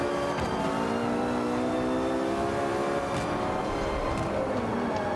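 Racing car engine in Forza 5 droning steadily with layered harmonic whine as the car loses grip and spins out, loud and continuous with no speech.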